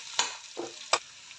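Tempered buttermilk is stirred in a pot, three short scraping strokes with quiet pauses between, close and alone without any talk.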